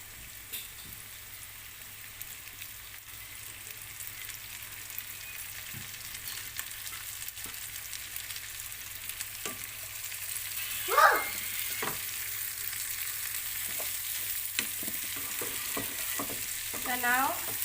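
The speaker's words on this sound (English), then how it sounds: "So we have to saute this just for a few seconds." Cabbage and vegetables sautéing in a pan for Filipino pancit bihon, a steady close sizzle and frying hiss with occasional stirring scrapes and clinks, no talking.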